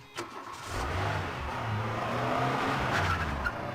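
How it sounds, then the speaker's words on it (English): A bus in a SpongeBob SquarePants video game drives away, a steady engine drone with low tonal rumble that holds at a constant level for several seconds after a brief thump, with no talk over it. "How did he not realize the bus left?"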